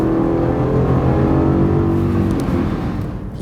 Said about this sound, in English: The engine is loud and it's powerful.